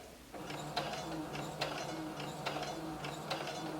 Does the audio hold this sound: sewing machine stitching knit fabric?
yes